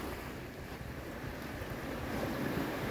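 Waves wash against a rocky shore at low tide with the water creeping in, a continuous close rushing surf with wind noise buffeting the microphone.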